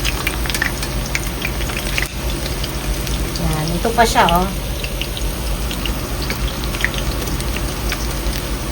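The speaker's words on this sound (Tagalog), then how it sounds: "Ako naman ay nagpiprito ngayon ng enoki mushroom." Enoki mushrooms fry in a pan over medium-high heat with a steady, close sizzle and scattered crackles, while a voice speaks briefly over it partway through.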